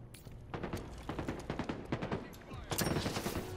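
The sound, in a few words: gunfire in Halo Infinite video game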